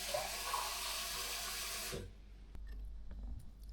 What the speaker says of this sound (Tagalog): Mag-add tayo ng tubig